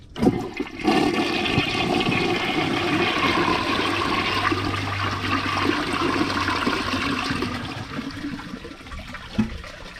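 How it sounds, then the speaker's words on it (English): A 2006 Mansfield Alto toilet flushes with its handle held down, giving a close, loud, sustained rush and swirl of water that gradually tapers toward a trickle and refill, no talk. "let's see a flush with the handle held down"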